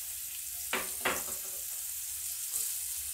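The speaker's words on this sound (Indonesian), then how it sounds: "Menggunakan minyak yang sama, tumis bawang merah dan bawang putih" Shallots and garlic stir-fried in hot oil for a spicy tofu, bean sprout and salted fish dish: a steady close sizzle with two louder bursts of crackle as the ingredients are tossed, no voices.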